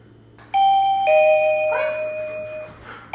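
An indoor doorbell gives a clear two-tone ding-dong chime during dog training. The tones ring out and overlap, loud and close, over a low hum with faint background movement.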